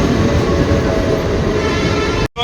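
A passenger train rolling past at a station in West Bengal, loud and close, its steady broadband rumble and rattle running continuously before cutting off abruptly near the end.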